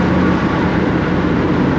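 A 1965 Shelby Cobra 427 by Superformance with 585 horsepower, cruising in fifth gear at low revs, its engine making a continuous loud low rumble close up with no voices.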